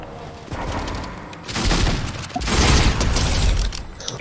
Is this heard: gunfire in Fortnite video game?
yes